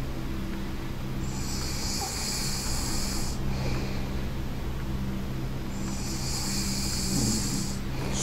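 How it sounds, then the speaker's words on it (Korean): Heavy, ragged breathing with snorting, snore-like inhales fills a horror video game scene, loud and close, in two long drawn-out breaths separated by a pause. "숨소리 리얼인데?"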